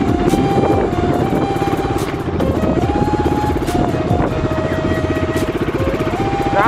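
A motorcycle ridden along a road near the Borpathar Buddhist Temple, its engine humming steadily nearby with rising and falling pitch as the rider shifts and changes speed.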